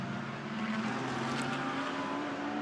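GT race cars, Mercedes and McLaren, racing at the Nürburgring in a GT World Challenge Europe main race: a steady, loud engine roar with sustained droning tones, heard alone without talk.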